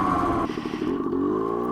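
Yamaha GT80 motorcycle engine revving and climbing through the gears on a cold, icy ride: a steady, buzzing engine drone that dips briefly and then rises in pitch as it pulls, close and continuous.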